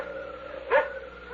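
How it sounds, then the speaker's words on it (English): A single dog bark in a radio drama, short and fairly close, cutting through a steady low background hum with no one talking. "That barking dog."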